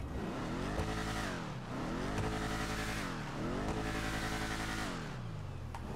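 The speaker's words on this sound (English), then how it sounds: "Oh, and it's got a lovely exhaust note. Did you hear that? Let's rev it up a little bit." A Dominator ASP muscle car in GTA Online revs its raspy exhaust hard, rising and falling through four or five long sweeping revs, loud and close with no talking.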